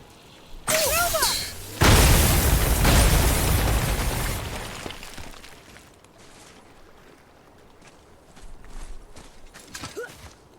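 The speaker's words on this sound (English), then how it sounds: "That boy was standing point blank to those explosions." Video game explosions going off point blank: a sharp blast followed by a long, loud roaring burst that fades out over several seconds, with a few faint pops and calls afterward.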